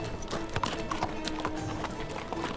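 A horse's hooves clip-clop at a steady walking rhythm as it is led away, quiet and fairly close, with no talking.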